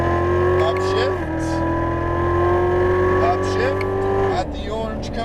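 A Chevrolet Corvette Z06 Stingray accelerating hard on a racetrack, a loud in-car engine drone climbing steadily in pitch through the gears, with a brief dip at each upshift.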